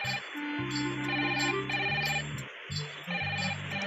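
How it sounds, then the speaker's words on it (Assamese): A phone ringtone plays a repeating electronic melody in short bursts, fairly loud and close, with brief pauses between phrases. "ফোনটো ৰিচিভ কৰা"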